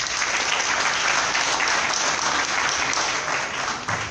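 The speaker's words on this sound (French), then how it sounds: "que je vous demande d'applaudir très fort" A dense, steady burst of applause from a large crowd at a PDCI-RDA political campaign launch, loud and continuous throughout with no voices standing out.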